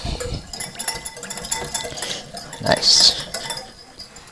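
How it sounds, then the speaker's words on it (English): A whisk clinks and scrapes rhythmically against a bowl while Caesar salad dressing is mixed, a close, steady metallic rattle with a brief spoken word over it. "So I'm going to use a whisk."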